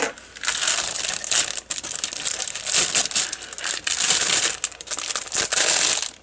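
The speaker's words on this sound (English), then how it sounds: "Sorry for the crinkly bags." Dense, continuous crinkling of plastic bags holding the sprues of a 1/48 Skunkmodel Workshop R-11 fuel truck model kit, close and loud, with brief pauses between bursts of rustling.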